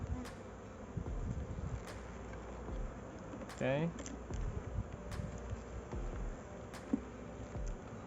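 Honeybees buzz around an opened hive as frames are checked, giving a low, steady hum that runs through the whole recording. Sharp clicks and a brief scraping sound break in over it, and a voice speaks a single short word.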